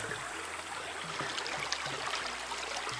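Small springs and brooks trickle through a mystical-looking forest, a steady soft wash of flowing water with no voices, fairly faint and even throughout.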